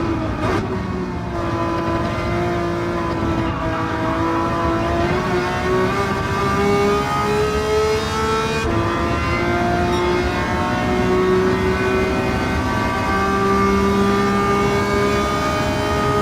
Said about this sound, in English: I found this car really pretty easy to drive.